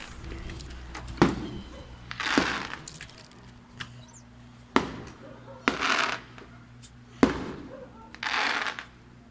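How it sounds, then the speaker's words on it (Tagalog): Fireworks go off nearby in a repeating pattern: a sharp bang followed a second later by a crackling burst, three times over, with faint background voices. "Guys, may fireworks."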